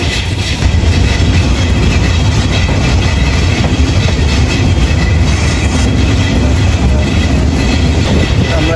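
Dhumketu Express passenger train on the Dhaka to Rajshahi route in Bangladesh, heard from inside while running near Jamtoli: a loud, steady roar of wheels and carriage rumble with faint clattering, continuous throughout and without voices.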